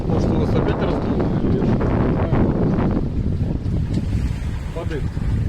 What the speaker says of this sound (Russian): То есть мы идем под парусами.